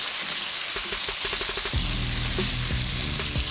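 Chopped tomatoes stirred into a hot pan for matar gosht, a continuous bright sizzle with a quick run of spoon scrapes and clicks, then deeper bubbling frying, all close up with no talking.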